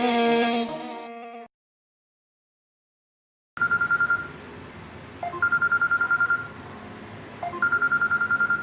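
A phone rings with an incoming call, an electronic ringtone repeating in evenly spaced bursts after a brief silence, steady and close, following a short snatch of tonal sound at the start.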